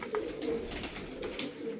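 Pigeons coo in soft, repeated low throaty phrases, several birds overlapping steadily at close range.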